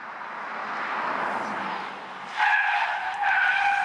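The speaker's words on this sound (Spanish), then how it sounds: "el deslizamiento de las ruedas era mayor del esperado" Tires of a Renault Scenic E-TECH skid and squeal through a moose-test swerve, a loud continuous screech that rises and sharpens into tonal squeals midway, with no talk.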